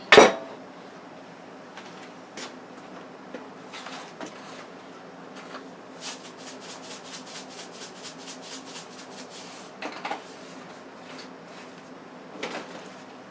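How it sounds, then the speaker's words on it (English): Chicken noodle vegetable soup stirred in a pot, a spoon scraping and clinking against the metal in quick repeated strokes, with a sharp knock at the start and louder clanks near the end, no talking. "And we're going to give that a stir. Make sure it doesn't stick."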